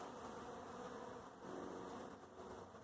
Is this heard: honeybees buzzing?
yes